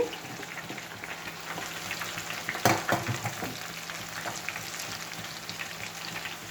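Fenugreek leaf pakodi frying in hot oil, a steady close crackling sizzle with a brief burst of stirring or spattering midway, no voices.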